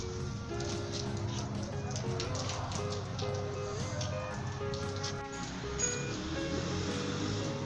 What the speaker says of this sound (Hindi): बारिश बहुत हो रही है सर्दियों में